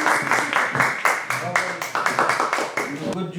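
A group of people applauding Mathis at a youth football academy session, rhythmic unison claps beating steadily and close, with voices mixed in.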